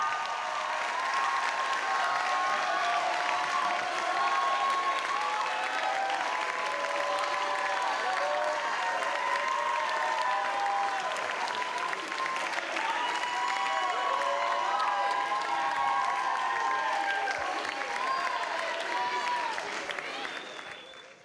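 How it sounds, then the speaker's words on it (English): A theater audience applauds philosophers on stage after a student show at Boston College, sustained dense clapping holding steady for about twenty seconds, with scattered voices and light cheering woven through before it fades at the end. "I'd like you all to give a round of applause to all our philosophers"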